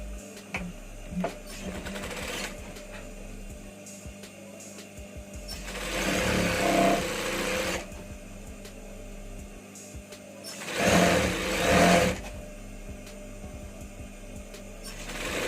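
An overlock sewing machine stitching fabric for a hidden button placket and pocket, running in two loud whirring bursts of about two seconds each, separated by quieter handling noise and short pauses.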